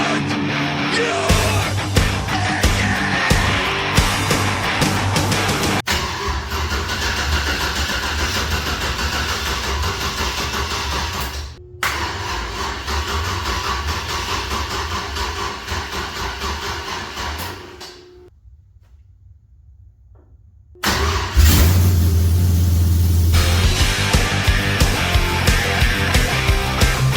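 An LS-swapped third-generation Camaro V8 rumbles loud and close, cuts out briefly, then cranks and fires back up with a hard, throaty idle and revs.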